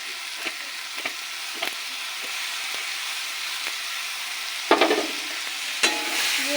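Dal being stir-fried in a pan for dal paturi, a steady soft sizzle with occasional louder scrapes and stirring clatters, close and alone without talk.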